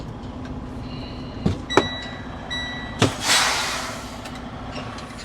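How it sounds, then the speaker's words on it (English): Doors on a delivery truck are pulled shut at a stop, a few sharp clanks and slams with a sliding rumble, close and fairly loud over a steady engine idle. "So now I gotta get out and I gotta close my doors up"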